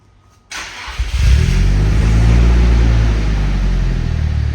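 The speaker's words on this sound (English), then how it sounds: "come on, Eddie, start it up for us. Let's hear it. Let's hear this thing" A turbocharged Nissan S15 cranks and fires up, then settles into a loud, deep, steady idle with a slight rise in revs, recorded close with no talking.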